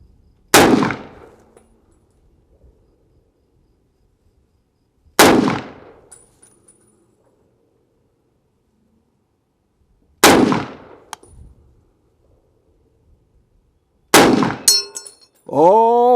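Four sharp rifle reports from an M1 Garand spaced several seconds apart, each followed by a short decaying ring, with a bright metallic ping of a bullet striking a steel target at the end.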